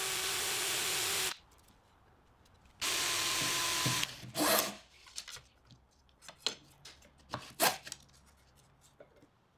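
Two long bursts of a loud, steady power drill whirring into wood, drilling dowel holes in segmented base pieces, separated by a pause, followed by scattered clicks and handling knocks.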